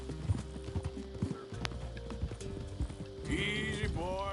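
Horse hooves clip-clop steadily on a dirt road in Red Dead Redemption 2, a moderately close, even rhythm running through the whole stretch, with a brief neigh-like tonal sound near the end.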